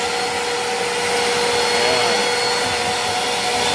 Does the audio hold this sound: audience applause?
no